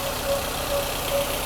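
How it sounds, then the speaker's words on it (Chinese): Mercedes W201 engine idling after repair, a steady, even low hum close by with a faint regular pulse and no stumbling or surging. "抖都不抖哦，非常稳定的，怠速是很稳定的"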